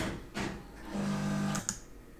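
A home coffee machine runs for a few seconds, giving a steady buzzing pump hum with brief clicks and a short hiss before and after, moderately faint in a quiet room.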